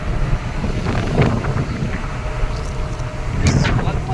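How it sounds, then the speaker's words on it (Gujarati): Strong, steady wind of about 70 km/h during a thunderstorm on a highway roaring across a microphone with continuous low rumble and buffeting, loud throughout with gusts swelling near the end. "પવનની ગતિ અંદાજે 70ની આસપાસ બસની અંદર પણ બધું પેક હોવા છતાં પણ ઉડી રહ્યું છે"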